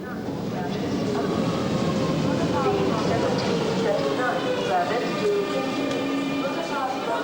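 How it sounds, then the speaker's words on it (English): Train standing at a King's Cross station platform, with a continuous loud rumble and a high whine over it. Voices and platform chatter run throughout alongside the rail noise. "This train is for King's Cross only."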